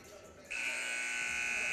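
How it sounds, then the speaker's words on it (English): A volleyball game buzzer sounds in a gym during a men's college match, a loud sustained electric buzz that starts abruptly after a brief moment of quieter background. "the buzzer sounds, which means set two is about to kick off here."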